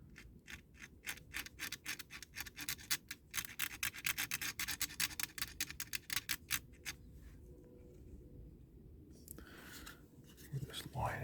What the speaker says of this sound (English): We'll just lightly scrape this.